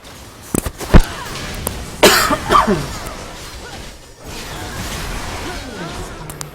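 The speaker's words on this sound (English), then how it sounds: "I coughed a little bit on the stream" During a League of Legends esports match commentary, the caster lets out a couple of short, harsh coughs close to the microphone, the first a quick sharp burst and the second a longer rasping one, with steady background noise around them.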